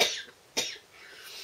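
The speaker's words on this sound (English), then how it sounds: "I've got a really dry throat. I've got this cough" A person's dry cough, two close, sharp bursts spaced about half a second apart, followed by a breathy exhale in a quiet room.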